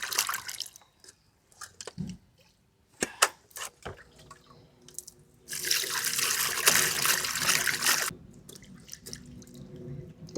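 Running tap water washing cut tilapia fish in a kitchen, with scattered drips and handling clatter, then a steady close gush of water for a few seconds before it stops.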